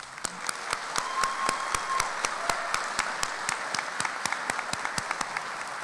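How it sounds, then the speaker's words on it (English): An audience at a college commencement ceremony applauds the graduating class, a sustained wash of many hands clapping with a few louder, sharper individual claps standing out, steady throughout with no speech. "This is a tremendous accomplishment for our graduates and deserves a round of applause."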